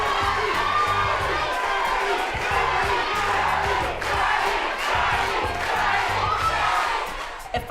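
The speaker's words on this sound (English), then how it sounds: "It felt like 500 people were cheering for Cheryl." A crowd at a boxing fight cheers and shouts loudly and continuously, with whoops and yells from many voices, including some high-pitched ones.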